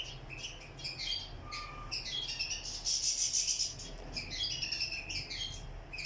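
Goldfinches in an aviary chirp and twitter, several birds calling with bright high-pitched tweets and short trills over faint background hiss.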